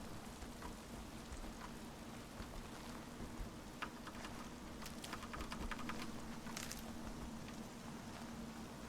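Steady rain in a video game, a soft continuous hiss of falling drops with scattered light ticks and patters over a low, even hum, quiet and unbroken throughout.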